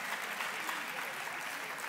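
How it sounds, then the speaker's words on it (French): Audience applauding performers at a French poetry and spoken-word final, a steady, fairly faint wash of clapping throughout the short stretch. "Oui, on a le droit de les applaudir."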